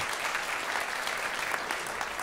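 Audience at a 2022 Mackellar election candidate forum claps steadily for an event organiser, a dense, even wash of many hands held close and fairly loud throughout, with no speech.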